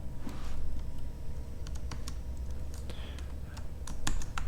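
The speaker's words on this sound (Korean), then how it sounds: "WQ 눌러서 엔터를 치고 저장하고 바깥에 나가고" Typing on a computer keyboard with a few sharper key presses such as Enter, an irregular run of close, crisp clicks and taps over a low background hum.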